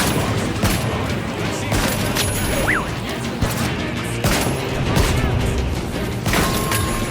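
Model 1887 and Cerberus 12-gauge shotguns in a competitive shooter game fire repeatedly amid crashes and impacts. The loud, punchy blasts come every second or so over busy combat noise.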